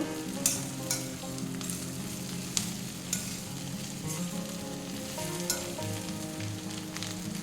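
Pointed gourd and eggplant frying in a pan over medium gas, a continuous close sizzle with frequent clicks and scrapes from stirring.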